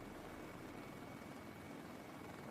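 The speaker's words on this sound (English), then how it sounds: "The helicopter lifted off and followed the same route as the Ospreys" A Marine transport helicopter lifts off, its rotor and engine producing a steady, broad, continuous roar that stays even and fairly close throughout, with no voices.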